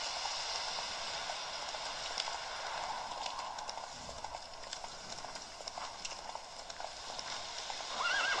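A horse in The Witcher 3 on Switch whinnies loudly near the end over steady clip-clop hoofbeats, with a continuous wash of ambient game noise running throughout.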